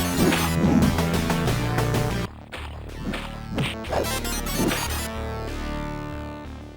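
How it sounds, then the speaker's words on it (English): Music and synthesized effects from a Mega Drive fighting game play in a busy, tonal burst with sharp hits, a brief drop, then further electronic stabs. "it sounds like this on the Mega Drive"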